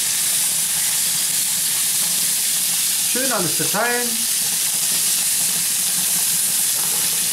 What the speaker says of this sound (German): Und jawohl, zisch. Unser Fleisch kommt hier rein.